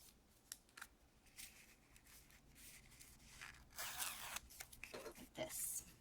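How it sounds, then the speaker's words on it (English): Ribbon being curled for a small handmade candy box, with a series of close, crisp scraping and tearing strokes that grow busier toward the end, while a voice talks quietly underneath. "and then I just simply curled the ribbon"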